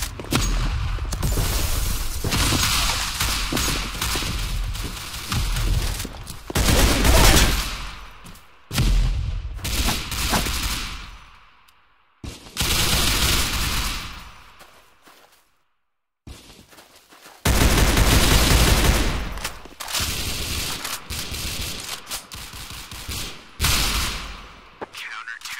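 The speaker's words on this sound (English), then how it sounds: "Opening fire!" Gunfire bursts in the Roblox game Counter Blox come in loud repeated volleys separated by short silent gaps, with rapid shots and booms.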